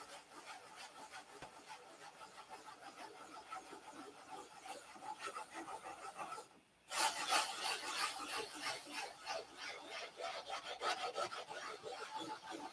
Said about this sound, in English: We're sanding our ass off.